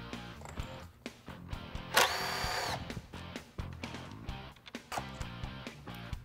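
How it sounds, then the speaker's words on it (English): A T25 driver working screws out of the starter housing of a Norton Clipper high-speed saw, with a brief whirring burst of a little under a second amid scattered clicks and clatter, close by. "we'll remove four screws with our T25 driver"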